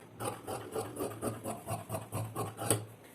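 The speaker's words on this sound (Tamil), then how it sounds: "இப்போ இந்த வேஸ்ட்டை கட் பண்ணி எடுத்துக்கிறேன்" Scissors snip away waste fabric while cutting a lining blouse, a quiet, rhythmic series of close rasping cuts repeating about every third of a second.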